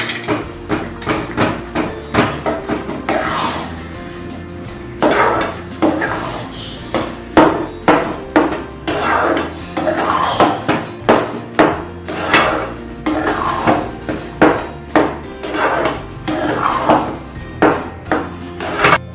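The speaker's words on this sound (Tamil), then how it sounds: "இதனுடன் வறுத்த முந்திரி திராட்சையை போட்டு கிளறவும்." Fried cashews and raisins are stirred into rava kesari in a pan. The spoon knocks and scrapes against the pot in repeated, uneven bursts over about nineteen seconds, with no talking.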